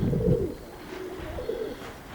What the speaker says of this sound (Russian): Голубка.